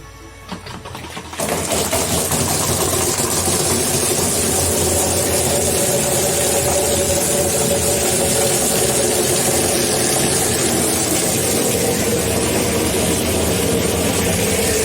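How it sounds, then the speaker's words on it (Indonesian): A small engine driving a venturi aerator and chlorinator for yellow, iron-smelling well water fires up after a quiet moment, then settles into a steady, loud idle that runs unbroken for the rest of the clip. "mesin kita nyalakan"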